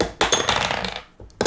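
Dice rolled for a Fighting Fantasy gamebook session, a close clattering tumble on a hard surface lasting about a second, then a few small settling clicks.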